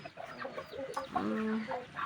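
Freshly purchased village rooster clucking close by, a run of short throaty calls that rise into a drawn-out tonal cluck near the end, heard alone with no talk.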